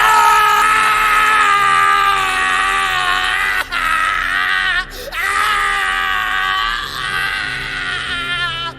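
A man screams in horror, a loud, sustained, strained cry breaking off briefly twice, ringing through the silence of night.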